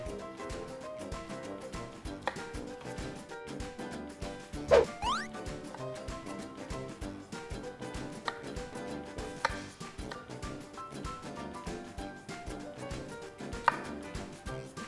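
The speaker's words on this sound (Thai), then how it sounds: "เราจะหั่นหอมใหญ่ให้มันเป็น เป็นเต๋าไว้" A knife chops rapidly and steadily against a cutting board close up, dicing an onion with a brisk, even rhythm and occasional louder knocks.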